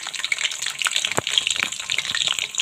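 Garlic stirred and fried in hot oil while pickle is being made, a steady bright crackling sizzle with watery splashing texture and a brief louder stir around the middle, no voices.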